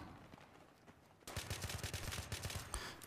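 Rapid automatic gunfire from hip-firing a rifle in Battlefield 3, a sudden burst of close, loud, evenly spaced shots that runs steadily after a quieter stretch.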